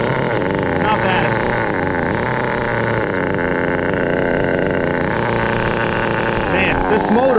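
A Kyosho FW-06 nitro RC car engine idles low and steady, a continuous buzzing drone with slight wavering in pitch, close and fairly loud.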